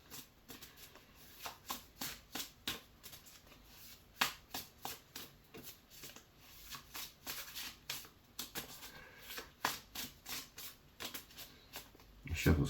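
Tarot cards are shuffled by hand in a quiet room. The riffling bursts are soft and close and repeat in a fairly regular rhythm for several seconds.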